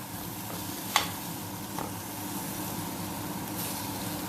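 Honey spare ribs cooking with a little oil in a covered pan, a soft steady sizzle with a couple of faint clinks, quiet and close, with no talking.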